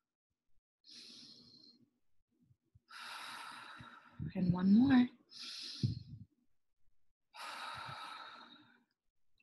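Slow, deep breaths in and out, with audible sighing exhales and a snort-like intake, paced at a calm rhythm, while someone speaks briefly between them.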